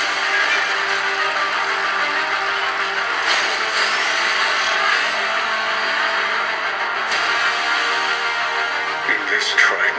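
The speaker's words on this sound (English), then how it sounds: "Beneath the screen, we have our Dolby Atmos stereo speakers, and they sound like this." The built-in Dolby Atmos stereo speakers of a Razer Blade 15 OLED laptop play back a dense, continuous soundtrack with a rumbling, engine-like texture and what may be a voice, steady and fairly loud throughout.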